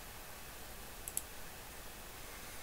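A computer mouse gives a couple of faint, quick clicks close together, sharp little ticks over a quiet room hiss.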